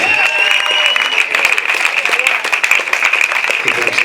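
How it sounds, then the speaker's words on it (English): A comedy club crowd claps for itself at the end of a stand-up set, steady close-packed applause with a sustained tonal whine running through it. "Give yourselves a round of applause."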